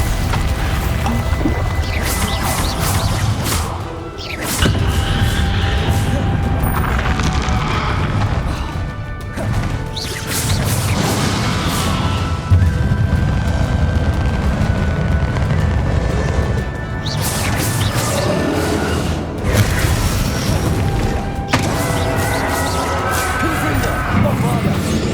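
The Confringo and Bombarda explosion spells in Hogwarts Legacy hit with repeated loud magical blasts, crashes and smashing debris over a dense battle din, while voices shout incantations.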